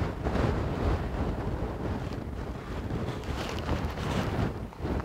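Strong gusts of wind near a volcano buffet the microphone in a steady, loud roar with rising and falling surges, and no voices are heard.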